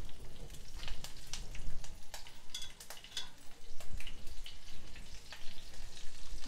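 Slit green chillies sizzle and crackle in hot oil in a pan for a Telugu lentil fry, a steady close frying hiss broken by sharp popping spatters, with no talking.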